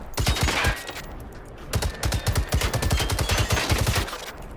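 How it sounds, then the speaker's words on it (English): A harvester robot in the video game Generation Zero fires a rocket volley, a rapid string of sharp, loud blasts in two bursts separated by a brief pause, alone without talk. "Let's see how his rocket attacks are now that the AI has been changed."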